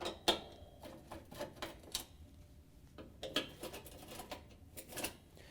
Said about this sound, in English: we can use our 5/16 nut driver to remove the 2 screws that hold each hinge receiver